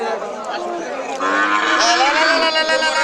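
Friesian cattle at a busy cattle market, loud drawn-out moos close by, with a crowd murmuring faintly underneath.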